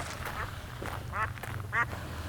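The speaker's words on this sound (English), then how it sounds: "the ducks are honking at us." Ducks at a lake give a few short nasal quacks, two louder calls standing out near the middle and end over a low background rumble, fairly close.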